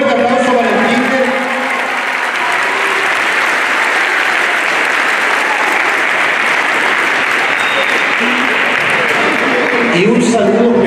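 Loud, sustained applause from a crowd at a school's end-of-semester event, for the kindergarten class, fills the space, with a voice speaking over it at the start and again near the end.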